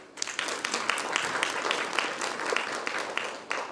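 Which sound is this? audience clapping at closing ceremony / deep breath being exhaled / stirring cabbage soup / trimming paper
audience clapping at closing ceremony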